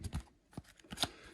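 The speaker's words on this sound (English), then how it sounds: "So you can get a nice shuffle on them." Quick riffling bursts of playing cards being shuffled, close and fairly quiet, in a few short flurries.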